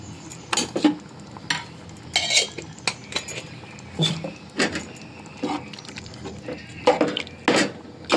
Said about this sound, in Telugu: మసాలా వేసి కలుపుకుందాం